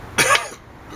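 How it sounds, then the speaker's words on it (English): A single sharp cough from a man, close and clear, lasting a fraction of a second before quiet room tone. "excuse me, cough."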